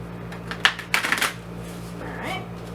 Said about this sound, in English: Just shuffle this a couple of times.